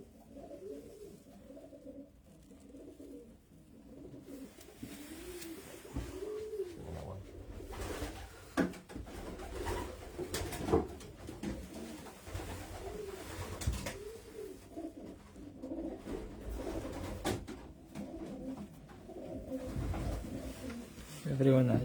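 Racing pigeons coo repeatedly inside a loft, their low, throaty calls overlapping close by, while people talk throughout.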